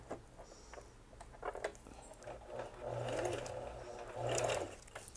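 Sewing machine stitching braided straw rope into a round bowl, a close, steady mechanical patter that speeds up in longer runs, with occasional clicks and handling sounds.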